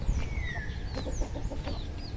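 Hens cluck softly nearby over a low rumble of background noise, and faint chirps from chicks or small birds rise above them.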